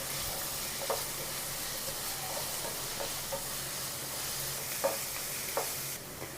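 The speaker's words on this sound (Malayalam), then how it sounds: "ഒന്ന് ഇളക്കി കൊടുക്കാം." Ginger, garlic and green chili sizzle softly in a pan on the stove, with a steady low frying hiss broken by a few faint scraping stirs of a spoon; no voices.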